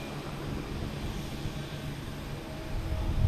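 A steady, droning aircraft engine roar at Boston Logan Airport, broadband and moderately distant, swelling slightly louder toward the end.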